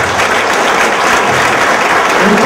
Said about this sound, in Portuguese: Palmas para o grupo 2.